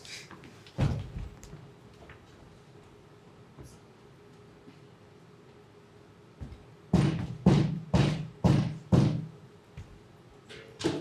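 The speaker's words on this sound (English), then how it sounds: "Here's a knocking indeed." A stage knocking effect on a door in a performance of Macbeth: one early thud, then a burst of five loud, evenly spaced knocks near the end over a quiet room.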